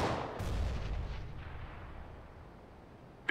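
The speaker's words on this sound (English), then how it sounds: "Throwing a grenade." A grenade detonates in a video game, a single deep boom up front that rolls into a long fading rumble and tail, fairly quiet overall with no talking.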